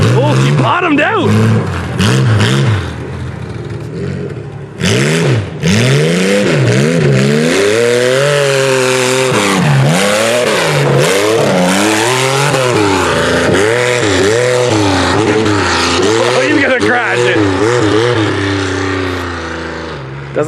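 Car engine revving hard while held in low gear, loud sustained rising and falling revs echoing nearby, with people talking over it.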